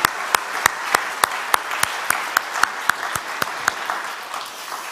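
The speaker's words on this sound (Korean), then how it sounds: "박수라도 한번 합시다." A church congregation claps for a newly registered family during a Sunday service, a rhythmic, unison clapping with evenly spaced sharp beats over a background of scattered hand claps.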